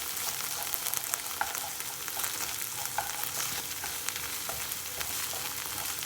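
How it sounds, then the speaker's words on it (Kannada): Chicken fries over a medium flame in a pan, a continuous bright sizzle with scattered sharp crackles and pops, close and unaccompanied by speech. "ಇವಾಗ ಚಟಪಟ ಅಂತಿದೆ ಸ್ವಲ್ಪ."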